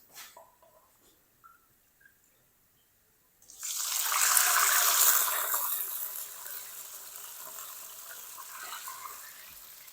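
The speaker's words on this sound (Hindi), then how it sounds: "इस टाइम पे आके ना हम इसके अंदर 2 कप पानी डाल देंगे।" Two cups of water poured into a hot pan of crackling tempered spices for a potato and semolina snack; after a few quiet seconds a loud rushing splash and hiss erupts, then settles into a steady sizzling bubble with no talking.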